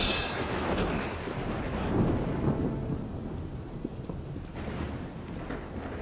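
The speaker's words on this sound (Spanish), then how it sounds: "Aquí con la lluvia" Steady heavy rain in the video game Assassin's Creed Unity, with a deep rolling thunder rumble building in the middle, continuous and enveloping with no voices.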